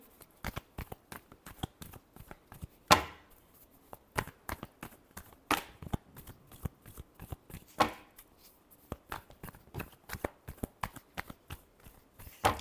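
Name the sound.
shuffling tarot cards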